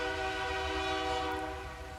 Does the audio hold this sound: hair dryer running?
no